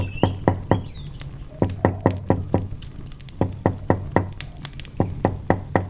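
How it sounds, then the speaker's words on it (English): Gentle knocks on a wooden door arrive in several short groups of three or four soft, close raps with pauses between, faint bird chirps in the background. "You lift your hand and knock gently."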